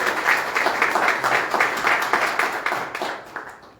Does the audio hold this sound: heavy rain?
no